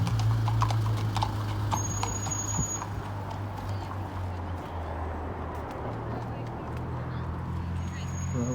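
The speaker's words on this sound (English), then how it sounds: "we've got the horses coming along" Horses' hooves clip-clopping along a riverside path in a park, a steady, fairly close rhythmic clatter beneath outdoor ambience and background voices.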